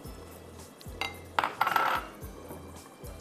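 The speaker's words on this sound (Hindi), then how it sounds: "अब मैं इसमें गाजर डाल रही हूँ।" Chopped carrots dropped into a cooking pot that already holds potatoes in oil, giving a few soft clinks and a brief clattering rattle of pieces landing against metal, close and quiet with no talking.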